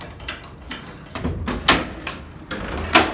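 A manually operated pull-rope elevator door in Milwaukee is opened, giving a series of sharp metallic clacks and rattles at irregular intervals, close and moderately loud, with no talking.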